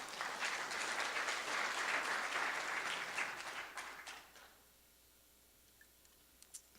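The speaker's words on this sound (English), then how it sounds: "I just want to really give all of you a round of applause" An audience at a tribute gathering breaks into a dense round of applause that holds for about four seconds, then fades into quiet, leaving only a few stray claps near the end.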